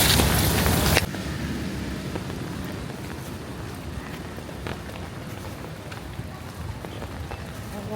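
Steady broadband rain noise, heavier for the first second, then a continuous patter of falling rain with scattered drops.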